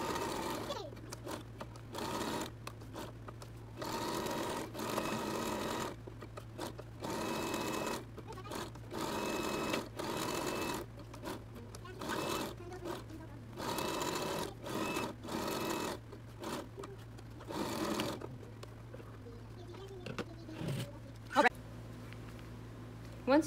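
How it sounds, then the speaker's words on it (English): A sewing machine back stitches over the pocket edge of a fabric shield for a reusable period product, running in repeated bursts of rapid, even needle clatter with short pauses between, close and fairly quiet. "You're going to do a back stitch over where the pocket is, or the edge of the pocket"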